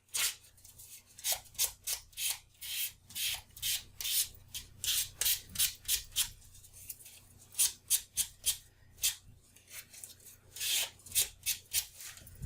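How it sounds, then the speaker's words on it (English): Sanding down a craft tag by hand, close repeated back-and-forth scratchy strokes in a steady rhythm over a faint low hum, heard alone. "sand this down."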